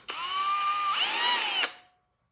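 A power drill bores out holes in a 3D printed part, one loud close whine that spins up, rises in pitch partway through, then stops and dies away.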